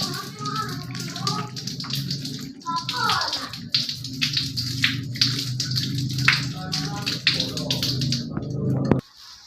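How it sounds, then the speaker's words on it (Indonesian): Hands being washed under a running tap, water splashing steadily and fairly close for most of the stretch before stopping abruptly near the end, with talking and a voice over it. "kita mencuci tangan dengan air mengalir dengan menggunakan 6 langkah"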